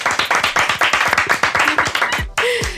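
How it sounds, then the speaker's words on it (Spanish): Audience applause breaks out for a beauty pageant queen at an interview event, dense rapid clapping filling the room close and loud before cutting off abruptly near the end. "Un aplauso para esa joven."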